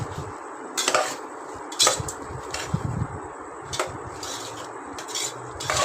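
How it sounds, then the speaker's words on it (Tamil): Mushroom biryani masala being stirred in a pan: scattered metallic scrapes and clinks of a utensil against the pan over a steady background hiss. "அப்பப்போ நல்லா கிண்டி விடுங்க."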